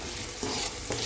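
Ginger, garlic, curry leaves, dried chilli and ground pepper stir-fry in hot oil with a dense, close hiss, broken by two quick stirring scrapes.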